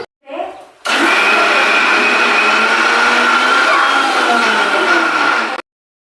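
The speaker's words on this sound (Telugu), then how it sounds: "మసాలా వాడికి మిక్సీ పట్టేసుకుందామండి కొంచెం కచ్చా పచ్చాగా మిక్సీ పట్టుకుందాం" A mixer grinder coarsely grinding ginger and spice masala whirs loudly and steadily for about five seconds, starting abruptly after a brief murmur and cutting off sharply at the end.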